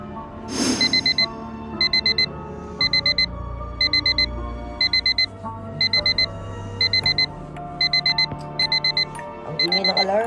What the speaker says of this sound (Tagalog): Ang ingay ng alarm.